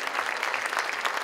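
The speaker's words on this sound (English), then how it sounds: "Big round of applause for the trumpet player." Steady applause from a concert audience for a trumpet player at a band's anniversary show, a dense, even wash of clapping with no voices heard.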